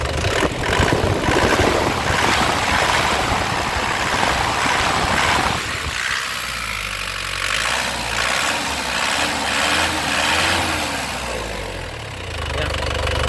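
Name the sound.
LS Turbo 2016 engine being revved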